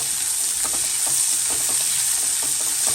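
Shallots sautéing in a pan for Ayira river-fish curry, a steady close sizzle with scattered soft stirring scrapes throughout, no voices.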